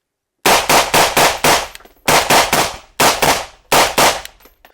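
Sharp, loud suppressed gunshots fired indoors come in quick bursts of four, three, two and two, each crack followed by a short ringing decay in an enclosed space.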